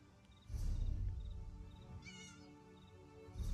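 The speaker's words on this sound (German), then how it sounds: "Hey, Katze." Cat meowing in the video game Elder Scrolls Online: a few close, drawn-out meows alone, with a longer wavering call near the middle.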